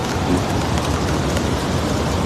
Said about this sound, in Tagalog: Super blessed dahil sa ulan na yan.